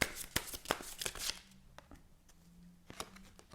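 Oracle cards shuffled with a rapid run of crisp riffling slaps and flicks close by, then quieter single card taps and draws with gaps of near silence.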